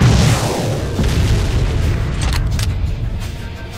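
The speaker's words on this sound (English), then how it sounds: "Pick up this recoilless anti-tank weapon and use the optics to aim down the range." Recoilless anti-tank weapon firing in ArmA 2: a loud, near boom at the start with a broad low rumble that decays slowly over several seconds, no voices.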